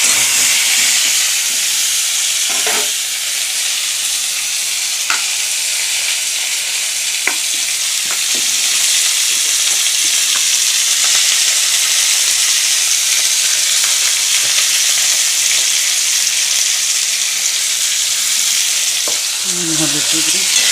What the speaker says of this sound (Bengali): পটলটা ভেজে